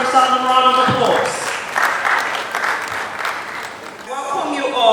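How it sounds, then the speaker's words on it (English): An audience claps at a Nigerian Institution of Environmental Engineers inauguration ceremony; a voice speaks at the start, then a burst of applause swells through the middle before talk over a loudspeaker returns at the end. "Can you please give yourself a resounding round of applause?"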